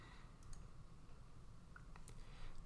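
A computer mouse clicks OK in a Carlson Geology software dialog: a couple of faint, sharp clicks, close and dry, spaced about a second and a half apart over a steady low background hum, with no voices.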